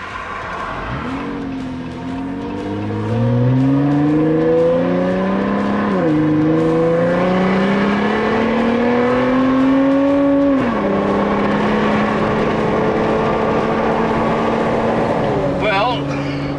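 Someone's car, freshly repaired with new 411s fitted in place of broken 538s, drives off loudly, its engine climbing in pitch through several gear changes and then holding a steady cruise, with voices talking over it.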